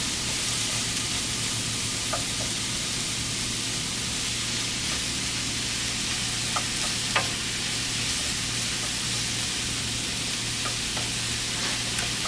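Two tablespoons of butter sizzling in a frying pan while beef stroganoff is cooked, a steady close hiss with a few faint clicks and taps and no talking.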